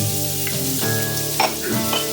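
Chopped onion and a seeded jalapeno sauté in rendered brisket fat in a home kitchen, giving a loud, steady sizzle with occasional crackles and stirring scrapes.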